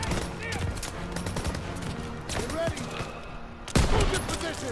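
Bursts of gunfire sound in the World War II shooter Call of Duty WW2 during a sniper-rifle match, with continuous battle noise and a louder close shot near the end, as players talk throughout.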